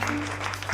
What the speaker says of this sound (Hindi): सभी लोग नैंसी के लिए तालियां बजाएंगे